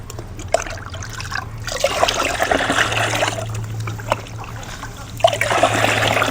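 Water trickles and splashes into a 10-litre bucket as peanut oil cake is stirred in, a continuous close liquid swirl with small sloshing bursts.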